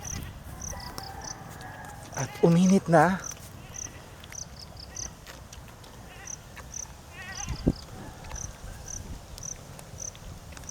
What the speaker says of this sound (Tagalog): This is 6 days old kambing. Saka ito yung mag-asawa kong kambing.